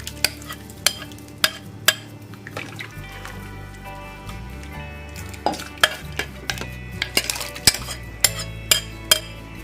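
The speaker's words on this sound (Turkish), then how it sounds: "Kaynayana kadar sürekli karıştıracağım." A spoon stirs spinach yoghurt soup in a pot, scraping and knocking against the sides in regular sharp strokes over a low steady hum of the stove, with no talking.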